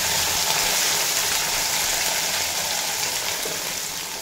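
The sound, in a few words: mourala fish with salt and turmeric frying in hot oil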